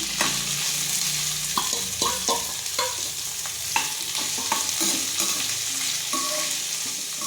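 Green chillies, curry leaves, urad dal and onion fry in a pan for a puffed rice oggarane, with a bright continuous sizzle and repeated scraping strokes of a spoon, up close.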